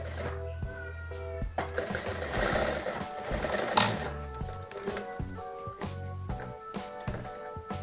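A sewing machine stitches the side seam of a child's dress in short bursts of rapid mechanical whirring, separated by brief pauses and handling clicks, close and clear.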